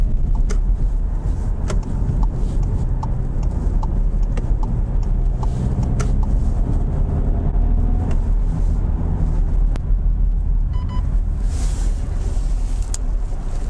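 Interior of a 2020 Volkswagen Tiguan 2.0 TDI taking a corner, with a loud, constant rumble of engine and road noise and occasional faint clicks and ticks inside the cabin, with no one speaking.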